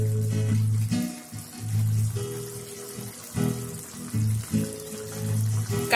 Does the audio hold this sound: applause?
no